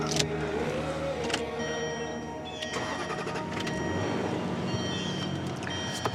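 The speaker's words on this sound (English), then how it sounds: "I'm gonna start the truck." A truck engine cranks and starts, a starter whir followed by the engine catching and settling into a steady idle, close and fairly loud, with a small electronic device powering up inside the cab.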